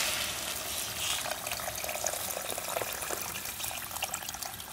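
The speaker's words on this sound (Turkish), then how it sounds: "Soğuk su ekliyorum." Cold water is poured over fresh white kidney beans in a pot, giving a soft, steady splashing rush that runs evenly throughout at low volume.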